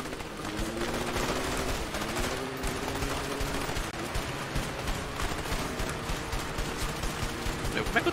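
Rapid gunfire bursts in the video game A Way Out crackle almost continuously through a busy action scene, layered with loud engine and crash noise and voices talking over the top.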